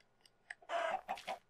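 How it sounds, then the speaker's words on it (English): Clucking from a chicken in the Minecraft video game: a couple of soft, short clicks, then a louder burst of several quick clucks, close and isolated with no talk. "Chicken?"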